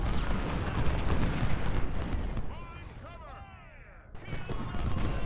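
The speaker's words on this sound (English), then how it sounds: "Get an artillery barrage to go off." Heavy artillery booms and rumbling blasts from an artillery barrage during a Gettysburg battle in Ultimate General: Civil War, a dense roar that dips briefly into a quieter, whistling lull before the thunder returns.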